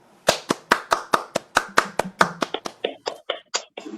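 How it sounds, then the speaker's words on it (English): A single pair of hands claps about sixteen times in a steady, close, dry rhythm, slowing and softening toward the end, as virtual applause for a guest speaker at an online business forum. "let us give an NREA big round of virtual applause to our guest speaker"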